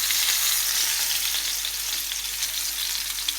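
Chicken-stuffed brinjal fries in oil with a continuous, even sizzle close by while it is turned with a fork, and no voices are heard.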